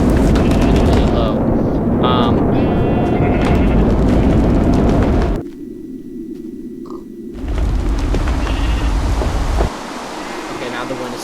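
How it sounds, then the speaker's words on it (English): Roaring tornado wind in a Minecraft weather and tornado mod, a loud, dense rushing storm that drops away for a couple of seconds midway and then surges back, with the player's voice talking over it. "now the wind has stopped sucking me up"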